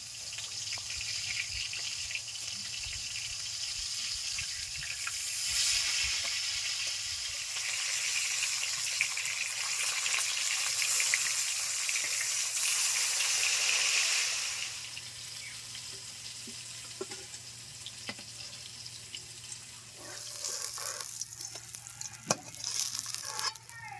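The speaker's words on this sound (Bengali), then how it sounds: "মিডিয়াম আছে আস্তে আস্তে ভেজে নিচ্ছি।" Pangas fish pieces frying slowly in oil over medium heat for a Bangladeshi fish masala, with a steady, loud sizzle that surges and settles, plus occasional clinks and stirring scrapes; no one speaks.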